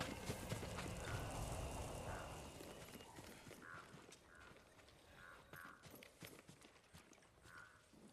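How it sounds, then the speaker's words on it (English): Horse hooves clip-clopping in the samurai video game Ghost of Tsushima, a faint, irregular series of hoof knocks over a low rumble, sounding like a horse stepping about nearby. "Yuriko's horse."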